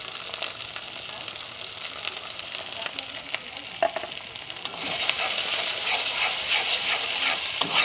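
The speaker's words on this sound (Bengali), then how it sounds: "মশলাটা একটু ভেজে নিই" Spice paste with ginger, garlic and turmeric fries in a pan for a pointed gourd and poppy seed dish, with a steady sizzle and scraping stirs that grow louder and denser partway through.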